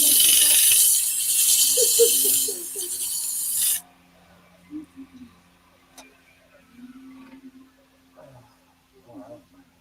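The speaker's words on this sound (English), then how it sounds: "That sanding just reminded me of how sore my wrist really still is" Harsh, loud rasping of sanding for a few seconds stops abruptly, followed by quiet voices and light clinks in a room.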